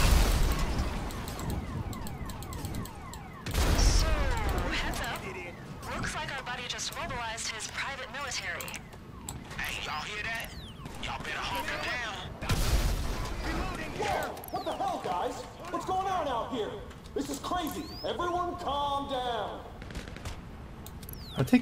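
Gunfire and explosions ring out in GTA 5 Online, loud bursts and pops breaking out repeatedly through the scene while a voice talks over much of the action.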